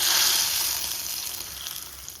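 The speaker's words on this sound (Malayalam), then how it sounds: "ഇനി നമുക്ക് കടുക് പൊട്ടിച്ച് ഒഴിക്കാം കേട്ടോ" Mustard seeds splutter in hot oil as a tempering is made for a homestyle ash gourd curry, a loud hissing sizzle that slowly eases over two seconds; no voices.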